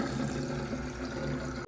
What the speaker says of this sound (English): Isn't that cold water dispenser the coolest thing in providing these water bottles?